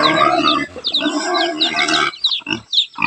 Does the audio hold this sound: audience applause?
no